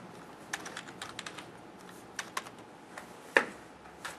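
Keys tapped on a computer keyboard during a SolidWorks training session, a sparse, irregular run of close, quiet clicks ending with one sharper keystroke.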